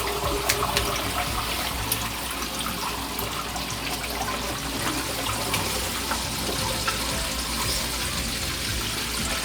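Water gushes steadily from a flushing toilet tank during a leak test, a continuous close rushing wash that holds at an even level for the whole stretch, with no voices over it.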